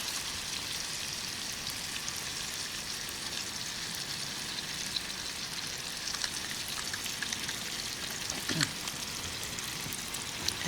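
Lemon juice is squeezed into a pan of sizzling shrimp for a lemon pesto pasta. A steady, close frying hiss crackles throughout, with a brief sharper burst near the end and no talking.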